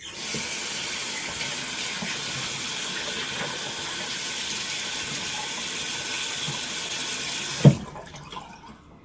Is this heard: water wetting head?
yes